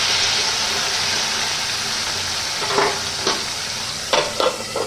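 Potatoes fry gently in a covered pan over a low gas flame, giving a steady, close sizzle with a few sharp clinks of a lid or utensil near the end, and no one talking.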